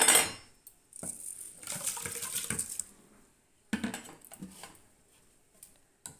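Soaked rice being tipped into a pressure cooker pot for coconut rice, heard as a close rustling, pattering pour with light clinks of metal, then a brief pause and a second shorter pour.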